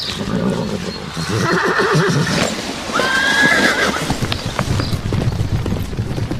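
A horse whinnies loudly and repeatedly up close, long wavering neighs over a busy background with hoof clatter.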